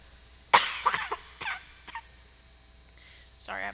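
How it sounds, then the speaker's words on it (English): A man coughs several times at a post-match press conference after a Chicago vs TCNJ game: a sharp first cough then a few smaller hacking bursts, close to the microphone, followed by a brief throat sound. "Sorry, I have a cough."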